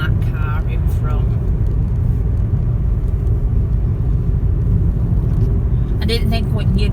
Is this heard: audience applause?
no